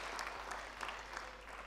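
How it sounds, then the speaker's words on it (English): Spectators at a professional squash tournament applaud, a faint, distant patter of steady clapping heard through a broadcast. "Please stand up and applaud the skill of James Willstrop."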